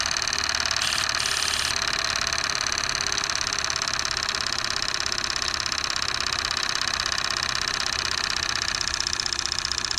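A Stuart ST steam engine runs on steam from a vertical boiler at about 15 psi, giving a steady, continuous mechanical chatter and hiss with fast regular beats, close and fairly loud throughout with no talking.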